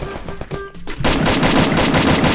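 An M4A1 Griffin's Fury rifle in Free Fire opens with a few separate shots, then breaks into a loud, sustained stream of rapid automatic gunfire lasting over a second.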